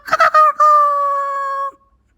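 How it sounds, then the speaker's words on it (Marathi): A rooster crows once: a few short, choppy notes, then a long, steady, drawn-out call that cuts off abruptly. It is loud, close and alone, with no talk. "तुझा आरवला आता कोंबडा."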